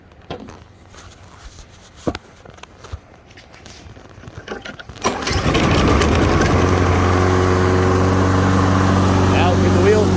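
A Toro 22-inch Recycle lawn mower engine catches after a few quiet tugs and soft knocks, then settles into a loud, steady, continuous running drone for the remaining seconds, close to the microphone.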